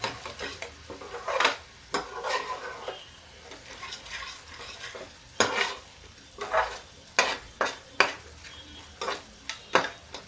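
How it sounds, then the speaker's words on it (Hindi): Masala cooking in a pan is stirred with a spoon, giving repeated scraping strokes in an uneven rhythm over a soft, steady sizzle, close and moderately loud, with no talk. "अब इधर मसाला पका रहा मेरा।"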